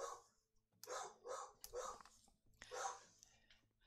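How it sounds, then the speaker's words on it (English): A dog barks outside in the House Flipper video game, giving several loud, spaced barks in quick bursts against a faint ambient hum, with no talking over them. "Definitely somebody walking with a dog. You can tell by the bark."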